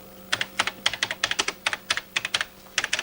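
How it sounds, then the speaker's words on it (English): Keys tapped on the keyboard of a television gadget machine in a vintage kids' TV segment, an uneven run of about twenty crisp clicks in quick bursts, close and fairly loud with nobody talking. "And you could even type with it, although my typing is not all that hot."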